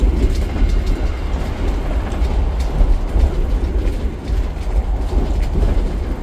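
Menoreh economy class train running, a loud steady rumble of the carriage with rhythmic wheel clatter on the rails, heard from inside the car with no voices.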